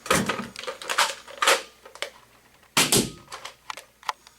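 A Nerf Maverick toy blaster is cocked and fired with foam darts, giving a burst of sharp plastic clacks and snaps up close, with two louder cracks standing out among the rattling clicks.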